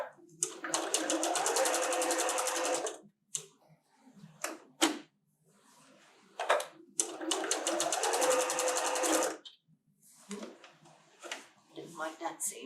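A sewing machine stitches a seam on a quilted table runner in two long rapid bursts of rattling needle strokes, with short stops, clicks and brief speech between runs.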